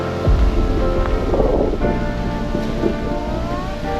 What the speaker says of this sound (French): Il y a du vent, c'est tout.